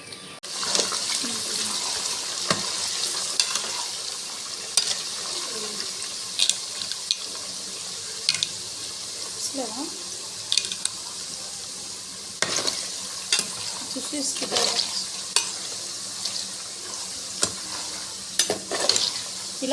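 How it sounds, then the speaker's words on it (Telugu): Chicken pieces fry in a pan with a steady soft sizzle, punctuated by scattered clinks and stirring scrapes, close and fairly quiet. "ఇలా చికెన్ని బ్రౌన్ కలర్ వచ్చేదాకా వేయించుకోవాలి."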